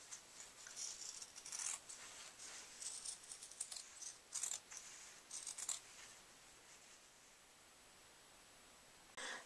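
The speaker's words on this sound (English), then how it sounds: "trim the quilt batting and the bottom square down to the same size as the top square" Quilt batting and fabric being trimmed with scissors for a quilted pillow, heard as faint, close, crisp snips and rustles in an irregular series with pauses, then quiet.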